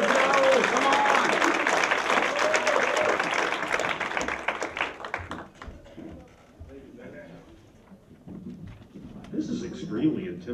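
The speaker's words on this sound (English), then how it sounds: "Give it up for Mr. Joel Rubin" An indoor crowd claps and cheers loudly for a speaker being introduced at an evening event, dense applause filling the first half before fading into scattered claps and voices.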